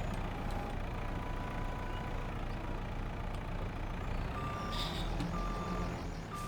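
A vehicle's reversing alarm beeps steadily in Farming Simulator 22. The repeating electronic tone sits over a constant low engine rumble.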